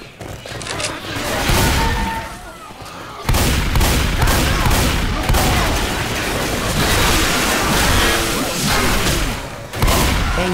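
Survivors fire their weapons in Left 4 Dead 2, giving loud rapid bursts of gunshots and booming hits in near-continuous waves with brief pauses, with a few shouted voices mixed in.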